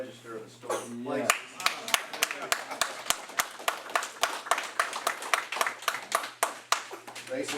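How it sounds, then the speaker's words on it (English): Individual audience members clapping at a June city council meeting in Church Point, Louisiana, sharp separate claps in a loose uneven rhythm after a brief stretch of speech at the start. "I'm glad to hear you applaud"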